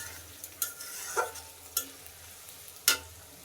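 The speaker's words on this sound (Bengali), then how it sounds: "এদিকে পেঁয়াজ ভাজি করে নিচ্ছি" Onions frying in a pan for a goat meat curry, a soft steady sizzle broken by a few sharp scraping stirs of a spatula, close and fairly quiet with no voices.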